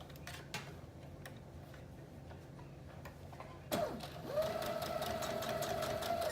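A sewing machine stitches a seam on a wrap dress, first a faint ticking, then the motor kicks in and runs in a steady close whir to the end.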